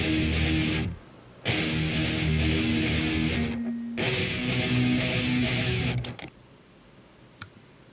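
Soloed guitar tracks from a recorded mix play loud and sustained, with thick chord sections broken by short gaps before cutting off near the end and leaving a few faint clicks.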